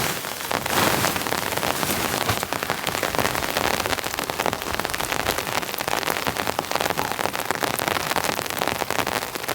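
Heavy rain and wind beat on a Hilleberg tent in a storm, a dense, loud, constant patter of drops hitting the fabric close by, unbroken throughout with no voices.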